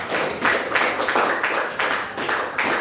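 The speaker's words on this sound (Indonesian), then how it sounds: "Mari kita berikan aplaus untuk kelompok pertama." Classroom audience applauding a first group of students, a steady crowd of hand claps rising and falling in waves for a few seconds, close and fairly loud with no talk.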